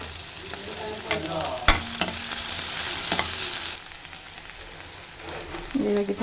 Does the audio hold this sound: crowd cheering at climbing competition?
no